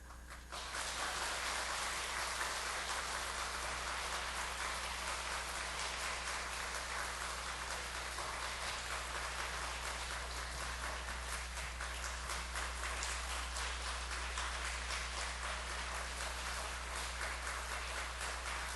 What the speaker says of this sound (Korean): 제가 전해드릴 때 박수가 끊기면 안 됩니다